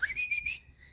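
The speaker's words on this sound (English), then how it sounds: "Whistle for her." A single human whistle calling a dog near a highway, a rising note followed by a wavering, warbling tone, fairly loud and close, fading out at the end.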